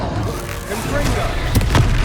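A Confringo spell blast in Hogwarts Legacy, a muffled booming burst with crackling impact near the end, heard amid combat noise and low rumble.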